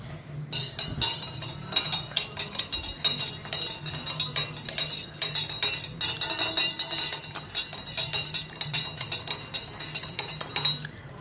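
A spoon stirs homemade summer lemon juice in a glass, giving a quick, steady run of close metallic clinks and scrapes that lasts the whole time with no talking over it.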